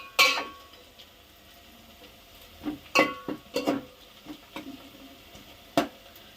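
Onions frying in a pan for a spicy goat head curry, with scattered metallic clinks and scrapes of a spoon stirring against the pan, several sharp taps spaced out over a faint low sizzle, no voices.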